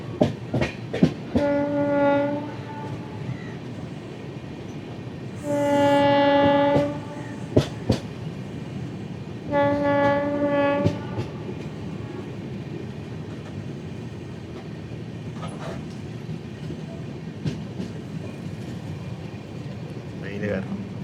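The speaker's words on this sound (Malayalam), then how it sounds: "ദൂരെ കൂടെ LHB പോകുന്ന കേട്ടോ" A distant train hauling LHB coaches rolls past near Hyderabad bypass lines, its horn sounding in three long blasts over a steady far-off rumble, with sharp clanks and a voice talking over it.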